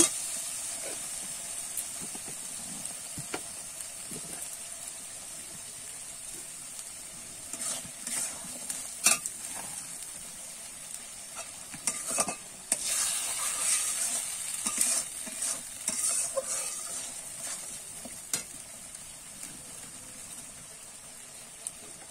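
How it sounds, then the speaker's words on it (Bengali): Spice paste being stir-fried for palak chicken, a soft steady sizzle and hiss with intermittent scraping stirs and clinks growing busier midway, close and fairly quiet. "এবারে কিন্তু আমি একটুখানি নেড়ে চেড়ে কষিয়ে নেব"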